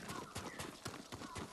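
Horse hooves clip-clop steadily at a galloping pace in the Ghost of Tsushima video game, with an even repeating rhythm of sharp thuds heard up front.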